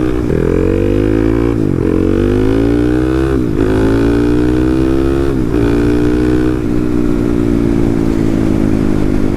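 A modified 250cc Honda Monkey motorcycle labours up a hill, its engine loud and close, revving steadily with a few brief dips as gears shift, then settling into a constant drone.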